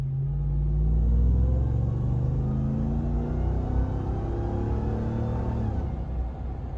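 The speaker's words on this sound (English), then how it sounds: "I know a lot of people out there love the sound of that supercharger." Supercharged engine of a Ram TRX pickup truck rumbling loudly nearby, a deep steady growl that swells early, holds with a faint whine, then eases slightly toward the end.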